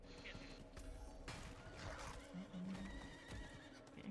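A horse mount in the video game Diablo 4 gives a loud whinny amid hoof clip-clops and game sounds.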